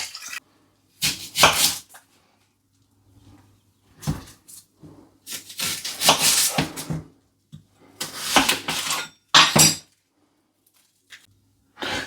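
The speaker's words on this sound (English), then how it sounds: "First things first, we need to slice up the onion and slice up the potatoes." A knife slices an onion on a cutting board in several separate bursts of crisp cutting and board knocks, close up, with short quiet gaps between them and no talking.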